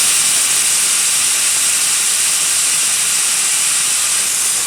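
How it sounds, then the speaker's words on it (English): Air rushing steadily out of a tire through a RapidFlow deflator with the valve core fully removed, a loud, continuous, even hiss held close and alone throughout. "you can quickly check that you have the valve core fully removed by pulling the slide valve back and listening to the airflow."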